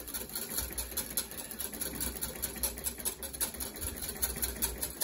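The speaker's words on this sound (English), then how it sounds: "back on, whisking, and what we're going to do is we're just going to tip some of this rapeseed oil in very, very slowly and whisk it in" Rapeseed oil being whisked into a hollandaise sauce, a fast, steady rhythmic whirring and ticking, faint and continuous, with no voices over it.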